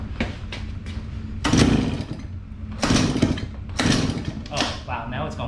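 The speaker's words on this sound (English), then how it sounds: "so it is sputtering a little bit through the carb" A Suzuki LT50 QuadSport quad's small engine, fed through the carb with the choke down, sputters in rough uneven bursts of rising revs that die back between attempts, close and fairly loud.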